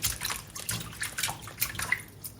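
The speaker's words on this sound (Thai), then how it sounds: "แช่น้ำในเบกกิ้งโซดาวันเปิดใส่อ่างใหญ่เลยค่ะ" Water sloshes and drips in a large basin where salad vegetables soak in baking soda water, with light irregular splashes and trickles heard up close and quiet, no voices.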